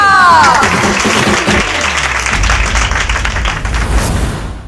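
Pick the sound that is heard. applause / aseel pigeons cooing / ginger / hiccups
applause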